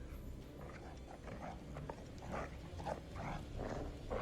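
Dog in the horror video game The Devil in Me: low growling and snuffling with short whimpering bursts, moderately loud over a dense, rumbling ambient background, with no talk.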